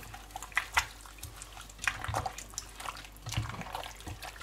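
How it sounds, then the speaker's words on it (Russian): A spoon stirs a freshly poured liquid mixture in a container, giving a series of light clinks and soft sloshes at an uneven rhythm, close and fairly quiet, with no talking. "Перемешиваем хорошенечко."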